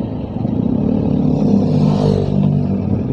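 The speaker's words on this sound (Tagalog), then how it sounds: "Motor lang pala." A motorcycle rides along a muddy road under repair beside an open canal, its engine a steady, fairly close rumble that swells slightly as it passes, with some clatter from the rough surface.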